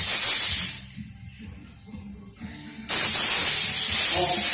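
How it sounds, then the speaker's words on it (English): A spray can lays a silver base coat on a bike in loud steady hissing bursts, a short burst then quieter gaps and a long continuous spray at the end. "So let's start by putting this silver paint"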